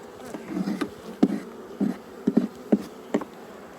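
Honey bees from a strong double nuc colony buzz while being hived into two brood boxes with a queen excluder, a steady close drone broken by several louder thumps and knocks from the hive equipment.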